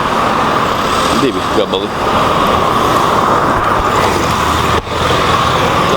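Continuous traffic of cars and mopeds on a busy street in Hua Hin, Thailand, a steady roadway roar with passing engines, under someone talking briefly.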